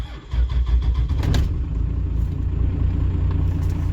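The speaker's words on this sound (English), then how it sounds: "So I'm gonna get it fired up." Cummins 2G diesel truck engine starting up: a brief crank catches within a second and settles into a loud, steady, low idle close by.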